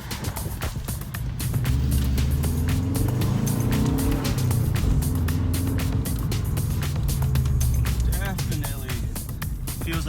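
Subaru WRX fitted with a lightweight crank pulley cruising a street at low RPM, a steady throaty engine drone that swells after a softer start, heard from inside the car.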